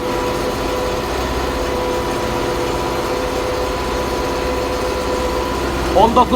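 A tractor engine with about 1,200 hours runs loud and steady up close at a thousand-something rpm while working a field, a constant droning hum with a faint voice near the end.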